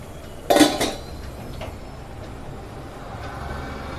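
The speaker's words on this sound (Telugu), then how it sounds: "సిమ్లో పెట్టి మూత పెట్టేసుకోవాలి" A lid set onto a pot of simmering butter paneer masala gives a single short metallic clank, followed by a quiet background hiss.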